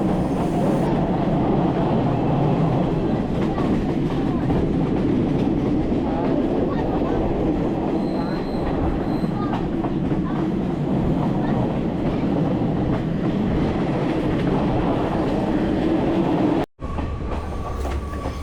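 A train on the Badulla railway line in Sri Lanka rumbles steadily from the inside, with continuous clickety-clack from the wheels and a loud, even roar throughout, followed by a brief drop near the end before the rolling noise resumes.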